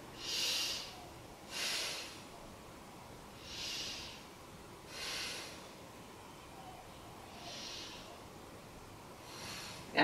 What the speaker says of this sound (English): Let's take three breaths here.